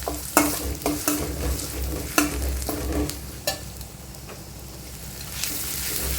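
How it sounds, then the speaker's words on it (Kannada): Chillies, curry leaves and finely chopped onion frying in a pan, with a steady close sizzle broken by several sharp scraping stirs of a spatula; no one speaks. "ಇವಾಗ ಇಷ್ಟನ್ನು ಫ್ರೈ ಮಾಡ್ಕೊಳ್ಳೋಣ."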